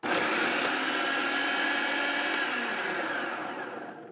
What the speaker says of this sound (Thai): ต่อไปเราก็จะมาสับแครอทกันนะครับ